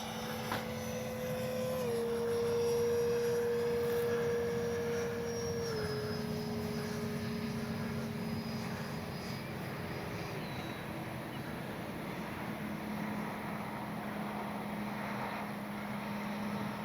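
H-King Flycat V2 RC jet airplane making a low pass with landing gear down, a steady turbine whine holding and gradually dropping in pitch as it goes by, continuous and fairly loud throughout.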